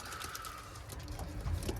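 Racing pigeon hens coo softly in a loft among low murmuring calls, with a faint steady background hum and no speech.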